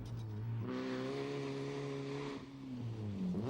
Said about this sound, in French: Prochaine voiture au passage, la voiture numéro 8 dans la Coupe du Québec, Sylvain Bazinet.